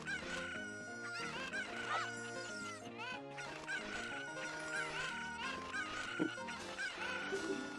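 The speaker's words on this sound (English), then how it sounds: "You got some angry chickens today." Squawking, honking chickens in Zelda: Ocarina of Time Randomizer, repeated agitated cries layered over continuous game music, fairly loud and constant.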